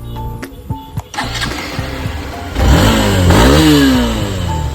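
A Hero Xtreme 160R motorcycle engine starts up close by, then revs in rising and falling bursts, loud and alone with no voices.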